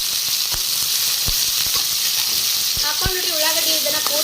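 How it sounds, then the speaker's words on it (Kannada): Chopped onions frying in oil in a pan for a dhaba-style paneer masala, giving a loud, steady sizzle with scattered pops and stirring clatter throughout. "ಉಳ್ಳಾಗಡ್ಡಿ ಒಂದ್ ಸ್ವಲ್ಪ ಲೈಟ್ ಗೋಲ್ಡನ್ ಬ್ರೌನ್ ಕಲರ್ ಆಗುತ್ತೆ ನೋಡ್ರಿ ಆ ತರ ಫ್ರೈ ಮಾಡ್ಕೊಳ್ಳೋದ್ರಿ"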